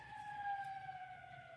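An ambulance siren sounds in the distance as it passes, a steady wailing tone that drifts slightly in pitch, heard alone and fairly faint.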